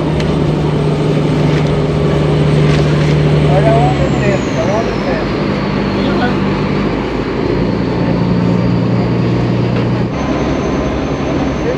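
Engine of a cargo boat loaded with freight, running steadily as it departs a river port near Porto Velho, Brazil, a continuous loud low drone with tonal hum throughout.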